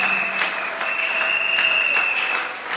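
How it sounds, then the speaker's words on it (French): A church congregation bursts into steady, dense applause and cheering for the Lord, a continuous wash of clapping with a sustained high ringing tone running through it. "Acclamez pour le Seigneur"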